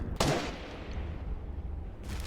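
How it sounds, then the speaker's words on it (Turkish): Bursts of rapid gunfire in Fortnite, one sharp volley near the start and another near the end, loud and close with little else between. "Hmm, silah sesi."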